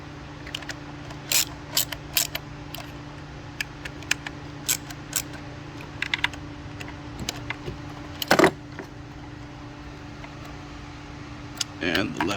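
Ratcheting clicks in short bursts while bolts are tightened down on the engine of a 2012 Mercedes-Benz C250 during a spark plug change, close-up over a steady low hum.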